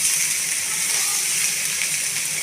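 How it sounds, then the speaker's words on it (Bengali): Water poured into a hot pan of sautéed spices for a katla fish curry, a loud, steady hiss that holds without break. "এবার আমি জল দিয়ে দিচ্ছি।"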